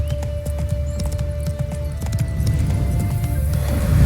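Horse hooves clip-clopping at a steady gait in The Witcher 3 video game, continuous and fairly close, with a low rumbling background growing louder toward the end.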